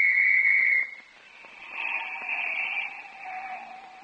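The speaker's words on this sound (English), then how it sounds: "That quarter I spent for this police whistle was a pretty smart investment." A police whistle shrills loudly at a busy street intersection in an old-time radio comedy, one sharp sustained blast followed by a softer, wavering whistling tone under a faint background.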